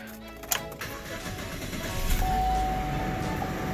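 A Domino's DXP car engine cranks over slowly up close, a faint whirring starter grinding with a couple of sharp clicks before a steadier low rumble builds and continues.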